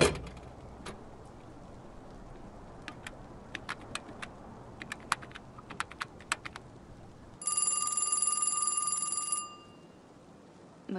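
A telephone rings during an outgoing call. A steady two-second ring tone sounds clearly over quiet room tone and scattered ticks, then stops.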